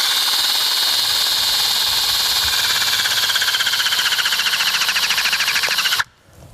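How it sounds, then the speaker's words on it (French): A hydraulic crimping machine's jaw presses a sleeve onto a steel cable and clevis, giving a loud, steady whirring buzz for about six seconds that cuts off abruptly, leaving a quiet tail. "Le petit clac que vous avez entendu, c'est que c'est serti."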